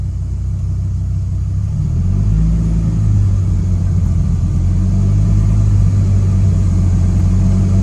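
A Dodge Viper's engine runs steadily with a loud, deep idle-like rumble while the car is put into first gear and the clutch released, producing a continuous close low drone.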